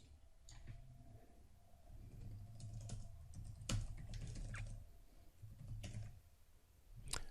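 Light typing on a computer keyboard nearby, quiet irregular key clicks in short bursts with brief pauses.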